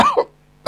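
A person coughs, a short, close, loud burst with a second hack. After a brief pause another cough starts.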